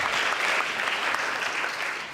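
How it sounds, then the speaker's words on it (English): A closing-ceremony audience gives a round of applause for the woman who gathered the donations, a dense, steady wash of many hands clapping that fades slightly toward the end. "Can we give her a round of applause, too?"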